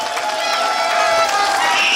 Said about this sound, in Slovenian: Tudi zanj aplavz.